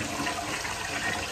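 A toilet flushes in a renovated abandoned house, a loud continuous rush of water that runs steadily throughout with no voices.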